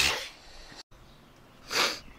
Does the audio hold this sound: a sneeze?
yes